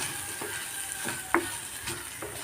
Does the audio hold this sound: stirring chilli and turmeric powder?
yes